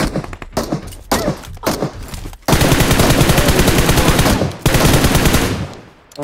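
Rapid automatic weapon fire from a machine gun in the mobile shooter PUBG Mobile. Short choppy bursts give way to a long, loud, continuous stream of shots, a brief pause, then another sustained burst.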